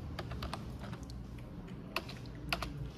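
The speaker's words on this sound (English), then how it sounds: "Escape on my keyboard." Keys on a computer keyboard are pressed during circuit layout work, giving scattered soft clicks and a couple of sharper taps over a steady low background hum, with no talking.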